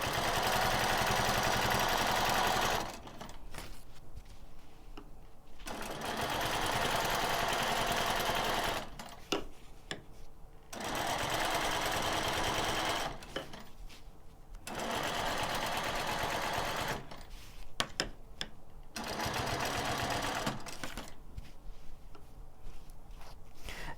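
A sewing machine stitches a square meander quilting border along a ruler, running in steady fast bursts of whirring stitches separated by short pauses while the ruler is repositioned, close and fairly quiet.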